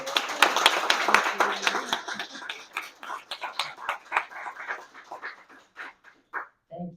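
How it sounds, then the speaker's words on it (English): Applause and claps from colleagues at a workplace town hall honoring a departing staff member, starting full and gradually thinning into scattered individual claps before fading out, with faint murmuring underneath. "Everyone, please give Kim a round of applause."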